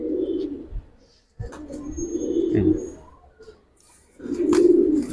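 Giribaz pigeons coo close by in soft, low bursts, three throaty phrases separated by short pauses, with faint chirps in the background.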